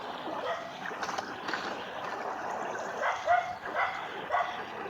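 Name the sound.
dog barking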